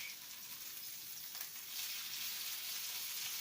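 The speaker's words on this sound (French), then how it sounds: "Bien huiler votre poêle. Attendre que ça fume. Ça fume! Vous entendez ce tch." Salmon sizzling in a smoking-hot oiled frying pan, a steady bright hiss that swells louder partway through, with no voices.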